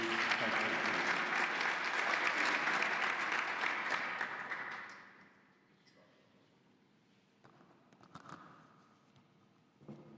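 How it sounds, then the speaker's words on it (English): An audience at a quarterly membership lunch gives a loud, sustained round of applause for a steering committee. It fades out after about five seconds, leaving scattered claps and room noise. "please give them all a round of applause for all their hard work"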